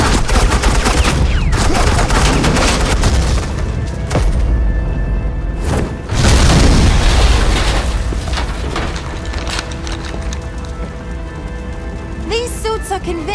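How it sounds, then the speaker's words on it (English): Agent Quinn's suppressing gunfire in Batman: The Enemy Within, loud sustained bursts of automatic fire with booming hits, joined by voices speaking over the shooting. "suppressing fire"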